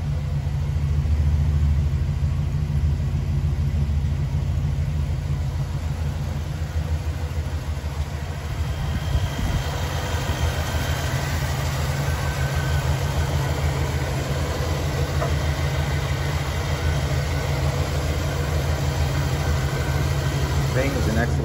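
A warmed-up 1976 Buick Regal engine settles into a smooth, steady idle, a low rumbling hum holding even and continuous at moderate level throughout.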